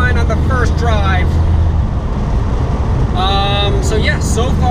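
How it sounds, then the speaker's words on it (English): A Nissan Skyline R32 GTS-T fitted with an RB25 turbo drives along, its engine and road rumble filling the cabin with a steady low drone while people talk over it. "So we are in the Skyline on the first drive."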